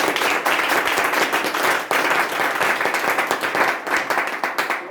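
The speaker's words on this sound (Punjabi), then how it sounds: "ਅਸੀਂ ਯਿਸੂ ਮਸੀਹ ਦੇ ਨਾਮ ਦੇ ਲਈ ਜ਼ੋਰਦਾਰ ਤਾੜੀ ਮਾਰਾਂਗੇ" A church congregation claps loudly in praise, a dense, sustained wash of many hands striking continuously for several seconds, close and full with no voices over it.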